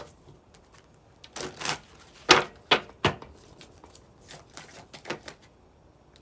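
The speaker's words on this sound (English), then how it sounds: "Now we're going to get a reshuffle." Tarot cards being reshuffled, heard as a few quick papery riffles and flicking bursts with soft handling noise between them, close and fairly quiet.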